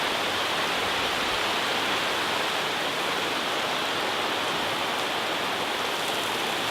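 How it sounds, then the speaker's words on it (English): Heavy rain pouring down steadily during a thunderstorm at a dive location, a dense, even hiss of water that stays loud and unbroken from start to finish with no voices. "Well, it's raining again."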